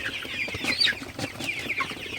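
Sonali super hybrid chickens on a farm at night, clucking softly in scattered short calls over a steady low background hum, fairly close and with no one speaking.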